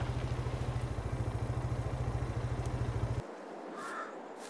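A motorcycle engine idles in Farming Simulator 22, a steady rapid low putter close by that cuts off abruptly partway through, leaving quiet ambient outdoor noise.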